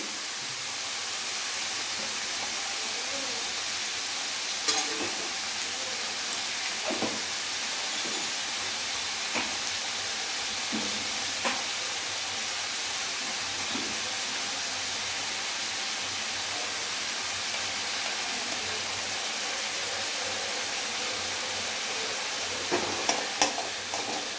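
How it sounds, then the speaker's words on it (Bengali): Mixed vegetables fry in a pan with salt and turmeric, giving a steady, close sizzle that runs throughout, broken by occasional scrapes and clinks of stirring and no speech. "তো এবার এটা মা নুন আর হলুদ দিয়ে একটু ভাজা ভাজা করে নেবে।"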